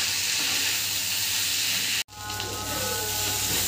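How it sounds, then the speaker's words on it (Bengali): Boiled peas being fried in mutton fat give a dense, steady sizzle and hiss, broken by an abrupt cut midway, then a slightly quieter, more open frying sound resumes. "আর দিয়ে দেবো আট সেদ্ধ মটর আর চর্বিটা দিয়ে এটাকে আমি কষবো।"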